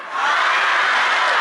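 A large crowd at a comedy or talk show cheering and clapping together, a loud broad roar of applause and shouts swelling quickly and holding steady, with no single voice standing out.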